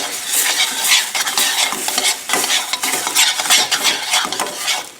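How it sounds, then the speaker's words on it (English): Minced garlic and shallots sauté and crackle in a hot pan, a steady close sizzle broken by frequent scraping stirs and the clink of a utensil against the pan, with no talking. "So I'm going to put in there the garlic and the shallots."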